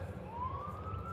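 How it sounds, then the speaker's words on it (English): A faint police siren rises in pitch, distant and steady over low background rumble. "I hear the sirens in the background."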